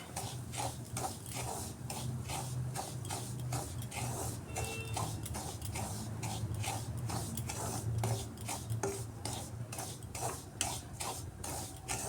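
Semolina stirring and roasting in a ghee and oil mix, a steady, busy scraping and rattling of a spoon against the pan with rhythmic strokes throughout, fairly close and continuous.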